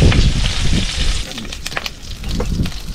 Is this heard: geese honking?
no